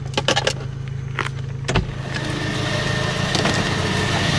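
A car settles down on adjustable suspension to its lowest setting, with a steady motor or compressor hum running throughout and a few short clicks and clunks in the first couple of seconds.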